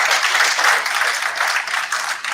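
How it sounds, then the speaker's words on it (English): Audience applause for a woman being introduced at an HIV and STI research dialogue, a dense, steady patter of many hands clapping at moderate loudness throughout, with no voices over it. "I think she deserves a round of applause for this."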